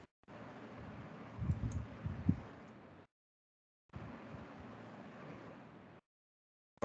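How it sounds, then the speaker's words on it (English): Keyboard typing comes through in two stretches of soft, rapid clicking under steady hiss, separated by a silent gap. "One minute, I'm just typing now."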